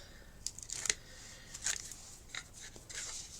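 Backing paper peeled from a thin strip of double-sided tape on a paper concertina journal, a few faint, quiet crackling rips and tearing bursts close by, with no talking.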